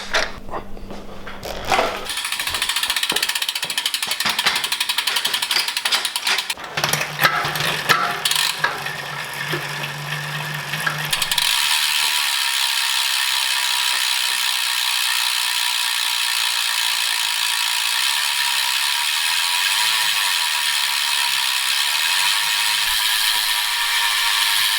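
Ratchet tool clicking in steady bursts during a bicycle tune-up on a race bike, with mechanical rattles and a constant bright hiss in the background, no talk.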